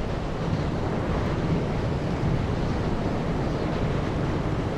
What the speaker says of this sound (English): it sounds really windy